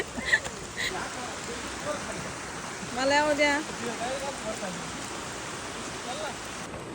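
Steady rushing water at a forest waterfall site near Kalsubai and Harishchandragad in monsoon rain, a broad continuous wash with a person speaking briefly over it partway through.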